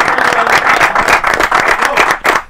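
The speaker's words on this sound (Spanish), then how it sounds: "Fuerte aplauso para eso." Loud, dense applause from a studio audience on an Argentine talk show, steady clapping filling the whole moment and tapering slightly at the end.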